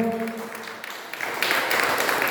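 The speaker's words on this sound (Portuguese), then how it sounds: "Vamos aplaudir o Senhor." A church congregation breaks into applause that swells and continues steadily after a voice fades out.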